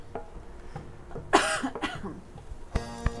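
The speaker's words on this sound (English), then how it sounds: "Sorry for the coughing." A single harsh cough bursts out, followed by a few smaller throaty sounds and a short breath, close and fairly quiet.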